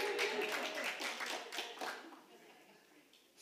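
Sermon congregation clapping briefly to celebrate a man's 28th birthday, a short burst of scattered hand claps that fades out after about two seconds.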